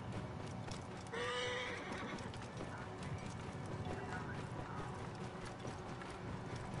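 A horse neighs once, loud and close, and hooves clip-clop steadily underneath in the video game Assassin's Creed Origins. Dense game ambience and mechanical sounds fill the background.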